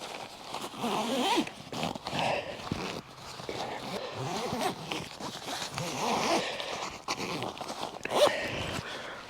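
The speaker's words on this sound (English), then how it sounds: "All right, let's see if we can get it to zip up." A pop-up canopy gazebo, rolled up and packed into its carry bag, is zipped shut in a run of close, scratchy zipper pulls and rustling fabric, with a few faint words spoken in between.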